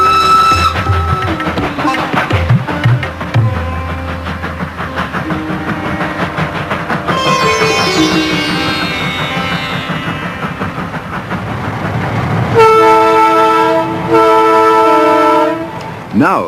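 Train on Indian Railways rolling along with a loud, continuous rumble, sounding sustained horn tones in the middle and again near the end.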